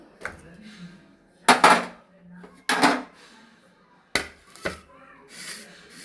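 Dishes and bowls clink and clatter as a Bengali thali of rice, tilapia curry and fried vegetables is arranged, with a few sharp knocks spaced apart and quieter handling between them, close by.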